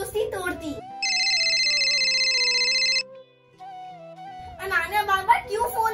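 A phone ringtone plays a bright electronic melody for a couple of seconds, with a voice speaking before and after.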